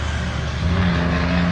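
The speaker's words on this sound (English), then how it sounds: "How loud is the truck?" A loud truck engine rumbles steadily and close, a deep droning roar with a slight rise in revs toward the end, filling a short stretch without voices.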